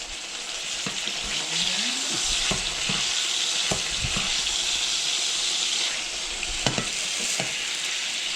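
Steak sizzles steadily in a hot pan while brunch is cooked, a dense continuous fry broken by a few sharp pops and scrapes of a utensil against the pan, close and fairly loud with no talking.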